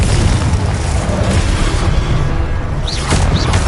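Confringo blasting-curse explosions from Hogwarts Legacy roar continuously, a dense loud rumbling blast filling the whole stretch with no gaps.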